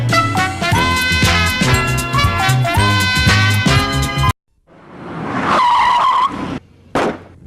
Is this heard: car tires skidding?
yes